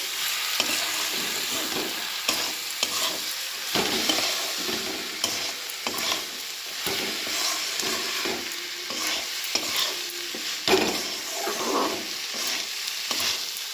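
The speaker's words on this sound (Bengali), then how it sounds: "এবার এটাকে একটু ভাজবো" Washed rice frying in a pan with salt, turmeric and sugar for khichuri. A loud, continuous sizzle runs throughout, broken by repeated rhythmic stirring scrapes and clinks.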